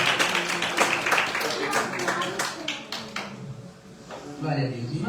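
A church congregation claps in a steady rhythm during a worship service, the beats fairly close and clear, with voices running underneath before the clapping thins out and fades.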